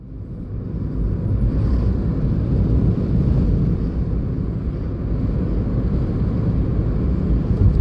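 A car drives along a city street in Cherkasy, heard from inside as a loud, steady low rumble of engine and road noise that holds throughout, with no voices.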